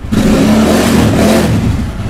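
A Bajaj Dominar 400 motorcycle engine revs loud and close in a second-hand bike showroom, a sustained throaty roar that holds steady for about two seconds before easing slightly.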